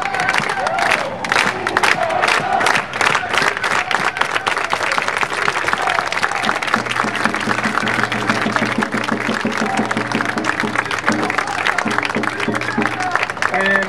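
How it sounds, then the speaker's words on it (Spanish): Farm workers at an outdoor vigil for Elvira Arellano break into loud, full applause mixed with cheering and shouts. The crowd noise stays strong throughout, and voices rise within it toward the end. "Vamos a empezar con un fuerte aplauso de los campesinos"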